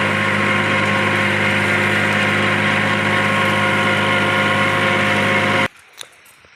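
A Swaraj Target 630 tractor drives a JK rotavator through a sugarcane field, a loud steady engine drone with a churning whine that cuts off abruptly near the end, leaving near silence and a faint knock.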